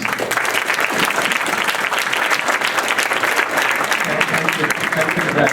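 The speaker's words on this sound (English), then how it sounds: "Join me in giving our analysts a round of applause." An audience at a talk on autonomous navigation applauds a panel of analysts, loud dense clapping from many people sustained evenly for over five seconds.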